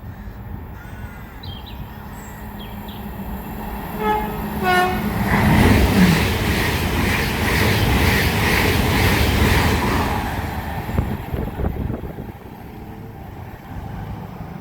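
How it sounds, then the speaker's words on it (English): A train horn sounds a harmonic tone, then a Great Western Railway Class 802 IET from Oxford to London Paddington rumbles steadily past nearby at Goring & Streatley on the Great Western Main Line and fades, with crows cawing faintly. "This should be a Great Western Railway IET from Oxford to London Paddington"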